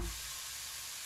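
A smash burger patty frying in a pan as a home copy of a Five Guys burger, giving a steady, fairly quiet sizzle and crackle right after it goes in, with no talking.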